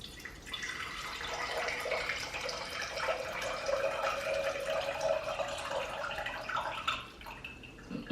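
Water poured steadily through a funnel into a container on a kitchen scale, a continuous close splashing trickle lasting several seconds.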